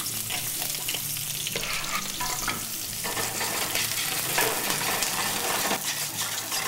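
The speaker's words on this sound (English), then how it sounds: "So let's get the onion in it" Onion frying with garlic in a pan makes a continuous close sizzle and crackle, with scraping stir strokes and a brief clink now and then, and no talking.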